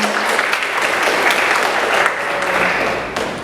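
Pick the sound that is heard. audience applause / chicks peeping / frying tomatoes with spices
audience applause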